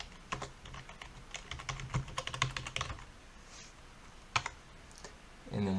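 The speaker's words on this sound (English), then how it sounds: "and then just type in like normal" Typing on a computer keyboard while entering text for a logo in Blender: quick, uneven bursts of close key clicks that pause, with a few isolated taps near the end.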